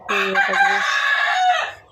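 A rooster crows once on a farm stocked with chickens, turkeys and Kadaknath fowl. The crow is loud and close, a rising then falling call lasting under two seconds.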